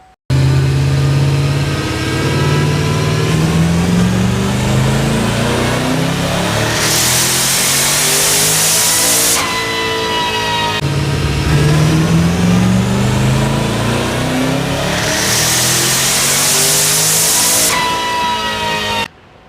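LS-powered fifth-generation Camaro with a plug-and-play E38 rusEFI ECU and boost making two hard dyno pulls, the engine note climbing steadily through the revs to a loud roar, with a hissing burst near the top of each pull before it drops away.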